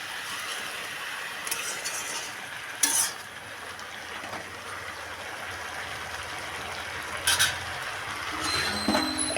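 Vegetables for a Bengali vegetarian Malabar spinach curry get stirred in a frying pan. A soft sizzle runs under it, with a few sharp scrapes and clinks of the spoon against the pan.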